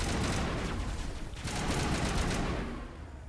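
Sustained rapid gunfire crackles loudly in the sci-fi shooter Mass Effect: Legendary Edition, a dense continuous burst that tapers off near the end.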